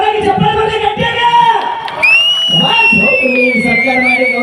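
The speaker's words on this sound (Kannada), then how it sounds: "ಒಂದ್ಸಲ ಜೋರಾಗಿ ಚಪ್ಪಾಳೆ ಬರಲಿ ಗಟ್ಟಿಯಾಗ" A crowd cheers and whoops loudly at a stage event honouring artists, with sharp whistles cutting through and a voice calling out over the noise.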